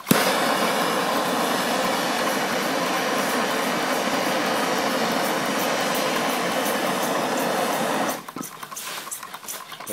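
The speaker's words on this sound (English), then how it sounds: "All I'm hearing is a little bit of gas escaping. The linkages." Small Stirling engine running with gas escaping and moving linkages: a steady, fine rapid clatter and hiss holds for about eight seconds, then drops away to a quieter, intermittent ticking.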